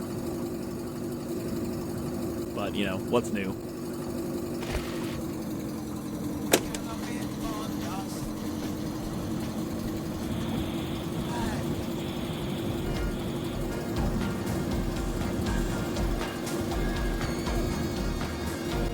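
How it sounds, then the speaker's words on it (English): Overheating car engine in the video game The Long Drive, a steady low engine drone running throughout at moderate level, with a brief voice speaking over it near the start. "Need some tunes to drown out the sound of my fucking garbage engine exploding."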